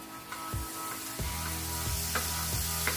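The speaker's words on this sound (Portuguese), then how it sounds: "já pego aqui pra dar um mexidão na cebola" Onions sizzle and fry steadily on a plow-disc pan cooking beef liver, with a few scraping stirs of a utensil breaking through the continuous close hiss.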